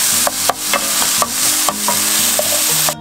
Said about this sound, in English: Bacon in first, let that start to brown up a little bit, and then get your onions in